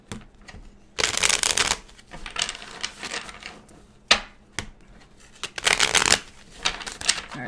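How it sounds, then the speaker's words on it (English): Tarot cards being shuffled in bursts, with two long riffling passes and shorter shuffles and taps between them, close and fairly loud with no talking. "Let's pull a few more cards."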